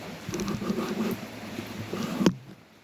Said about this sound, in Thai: นี่ก็คือบรรยากาศ ฝนตกกันนะครับ